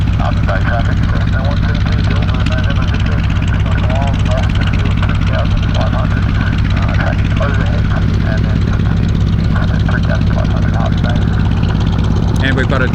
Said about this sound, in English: this is Janet coming in for her first powered approach attempt